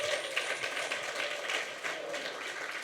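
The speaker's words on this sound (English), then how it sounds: "big applause for Sam" Applause from an audience at a Fuckup Nights event in Toronto, a dense steady patter of many hands that holds at a constant level throughout with no voices over it.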